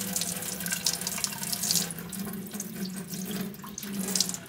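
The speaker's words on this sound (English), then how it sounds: "let's empty the water" Dirty water from the Osotek Horizon H200 vacuum mop's tank pours out into a sink, a continuous splashing gush with bright spattering that runs unbroken throughout.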